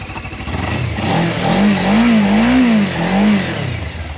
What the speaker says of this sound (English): have a look at that exhaust note.